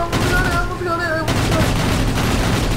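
Rapid machine gun fire from aircraft in the World of Warplanes video game, a dense continuous rattle of shots under engine drone and game effects, with a voice speaking briefly over it.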